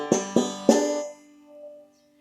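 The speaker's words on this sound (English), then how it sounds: "I might play really close down here to the bridge for a really bright sound like this." Three bright, twangy clawhammer banjo notes struck close to the bridge, each sharp attack ringing briefly before fading into a quiet sustained tone, played alone and near.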